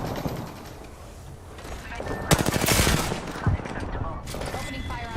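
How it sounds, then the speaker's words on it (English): Automatic gunfire in the video game Apex Legends, a rapid burst of close, loud shots followed by scattered single shots, with in-game character voices and mechanical clicks around it. "Opening fire on our prey."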